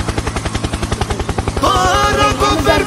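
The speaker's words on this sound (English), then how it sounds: "Helicopter! Helicopter!" A helicopter in the Roblox video game chops in a fast, regular rotor pulse that turns into a denser, brighter roar partway through, loud and close.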